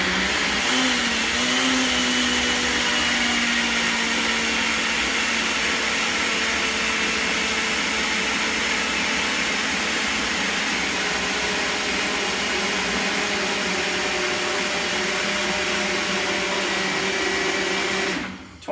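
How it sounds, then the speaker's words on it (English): A Ninja blender purees jalapeño peppers with a loud, steady, high-pitched whirring motor roar that holds for about eighteen seconds before cutting off abruptly. "20 seconds in the Ninja. Perfect way to puree anything."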